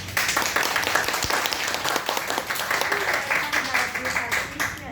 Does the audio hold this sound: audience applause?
yes